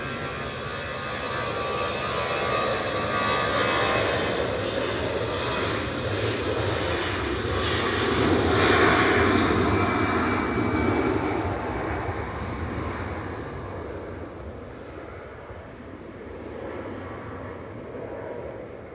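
An EasyJet Airbus A320 airliner at Manchester Airport, its jet engines roaring loudly for a long stretch, swelling to a peak and then fading slowly into the distance.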